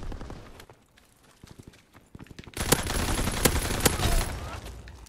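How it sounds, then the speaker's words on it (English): Gunfire in the video game Call of Duty WW2: scattered shots at first, then a louder run of rapid, cracking bursts with a few strong reports standing out over continuous battle noise. "Who else is shooting at me?"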